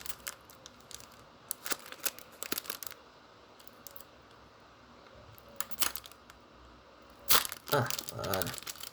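A trading card booster pack wrapper being torn open, with scattered crinkles and tearing bursts and a louder ripping sequence near the end, close by in a quiet room.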